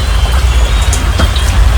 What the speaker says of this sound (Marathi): आता बघू पाऊस चालू आहे बाहेर बघा एवढा पण जोरात नाही आहे